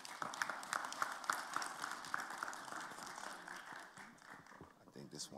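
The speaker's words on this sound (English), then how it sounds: "Let's give them a round of applause" Audience applause for a panel of international and national union leaders, quick scattered clapping that is loudest at first and then thins out and fades.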